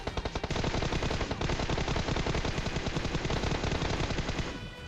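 Dense, rapid automatic gunfire rattles nonstop during a firefight between squads in the video game PUBG, loud and close, with overlapping bursts and no voices.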